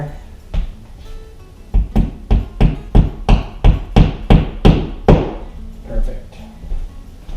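A hammer pounds into a drywall wall while a coat rack goes up, about a dozen sharp, loud, close strikes in a fairly steady rhythm, with a few lighter taps at the start and end.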